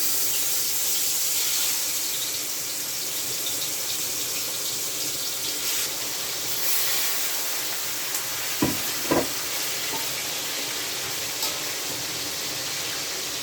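Seasoned, marinated pork sears in a pot for a Jamaican pot roast, giving a steady hissing sizzle throughout with a couple of brief clunks of handling near the end; no talking.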